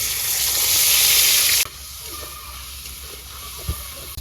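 A paste of ginger, garlic, cumin and onion hits hot oil with a loud, bright sizzle that lasts a moment and then drops to a softer, steady frying hiss, with a light knock near the end.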